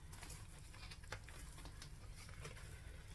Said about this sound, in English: Oh, it's pouring rain outside.